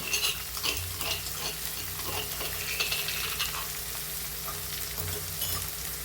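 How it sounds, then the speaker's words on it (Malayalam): Ginger garlic paste sautéing in a pan, a dense steady sizzle with frequent stirring scrapes throughout, close and fairly loud, no voices. "ഇനി നന്നായി ഒന്ന് വഴറ്റി സെറ്റ് ആവണ വരെ നമുക്ക് വെയിറ്റ് ചെയ്യാം"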